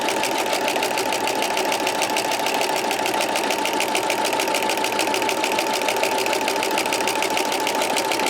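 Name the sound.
sewing machine stitching with a walking foot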